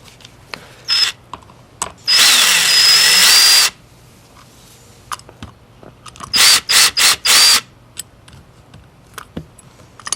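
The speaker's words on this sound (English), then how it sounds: "you want to remove this cap by removing these 2 screws with the drill with the Phillips" A power drill with a Phillips bit backs screws out of a cap on a Honda CT90 engine, firing in a long whirring burst and then several short pulses, with clicks and handling noises between.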